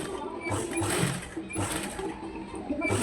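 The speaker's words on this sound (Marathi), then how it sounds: "त्याच शिलाईवरती शिलाई मारायची आहे" A sewing machine runs close by, stitching a sleeve lining along a button seam with a steady rapid mechanical whirr and ratcheting clatter that eases and resumes over a few seconds.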